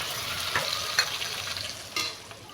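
A paste of ginger, garlic and onion with dried red chili, cumin and coriander fries in a pan, giving a steady close sizzle broken by a few sharp clinks and scrapes of stirring, with no talking.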